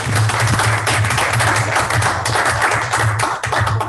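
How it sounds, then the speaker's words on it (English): An audience at a school board meeting claps steadily for several seconds, a dense, loud patter of hands filling the room. "So let's give them all a big round of applause."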